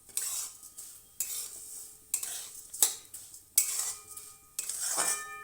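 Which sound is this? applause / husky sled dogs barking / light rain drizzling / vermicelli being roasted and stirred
vermicelli being roasted and stirred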